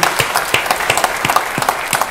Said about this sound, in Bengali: তাদেরকে আমরা একটা জোরে হাততালি দিই